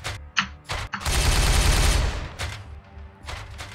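Gunfire in the video game Warhammer 40,000: Regicide, loud and close: a few sharp single shots, then a dense roaring burst of automatic fire lasting about a second, followed by more scattered reports.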